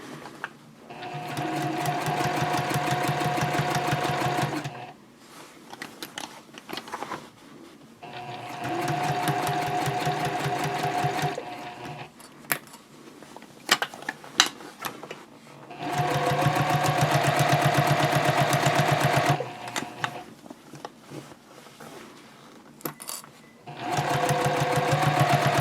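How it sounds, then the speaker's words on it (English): A sewing machine stitches a seam from the inside of a fabric basket at a half-inch seam allowance. It runs in three long, loud bursts with short pauses and handling noises between them. "I am stitching from the inside of the basket, and my seam allowance will be 1/2 of an inch."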